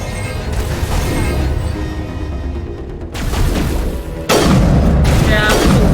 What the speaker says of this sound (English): missiles like this are not my fave either